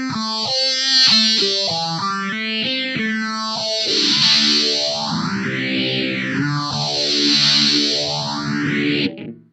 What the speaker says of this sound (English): These two, the fuzz is hitting the wave of the phaser and it's kind of murking everything up.